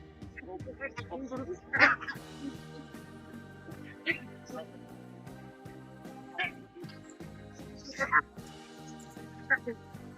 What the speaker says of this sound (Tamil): இங்கே பாருங்க வாத்து